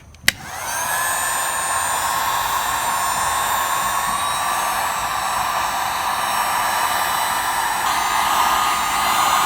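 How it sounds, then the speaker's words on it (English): A heat gun blasts hot air onto a wrinkle-painted Honda Civic EG valve cover, starting with a click and then holding a steady, loud whooshing roar with a faint whine that continues unbroken. "I'm gonna go ahead and turn on the heat gun here"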